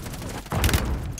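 Gunfire in the Call of Duty video game, a short burst of shots rising out of quiet background game sound, fairly close and loud, with no speech.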